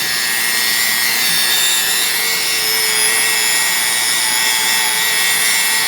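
A rotary tool spins felt bobs to polish a wheel, a loud, steady, high-pitched whir that holds without a break from start to finish.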